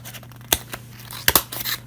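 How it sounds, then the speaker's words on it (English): Scissors snip through paper in a craft project, a handful of short, crisp cuts at irregular intervals, close and fairly quiet. "I probably should have used the bigger scissors"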